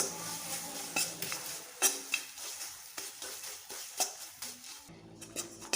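Jaggery melting in a pan for coconut-jaggery laddoos, heard as a spoon repeatedly scraping and clinking against the pan in an uneven rhythm, with a soft sizzle beneath the close stirring.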